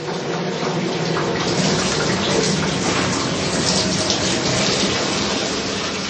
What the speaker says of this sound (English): Freed of coarse solid contaminants, the hot wax-water mixture runs into a wooden tub.